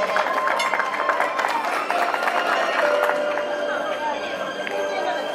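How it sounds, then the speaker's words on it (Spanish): A school primary promotion party in Arequipa fills with steady crowd applause and cheering, with voices chattering and talking over the clapping throughout. "Muchas gracias, ponle los aplausos."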